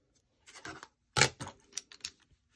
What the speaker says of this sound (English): You're going to cut down the middle.